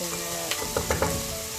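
Green chillies fry in hot oil in a pan for a quick Indian breakfast, a dense steady sizzle broken by a few soft stirring scrapes, close up.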